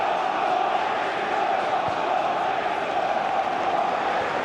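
Football crowd in the Holte End at Aston Villa's ground during Aston Villa v Ajax, a dense continuous roar of massed voices chanting at a steady level with no break.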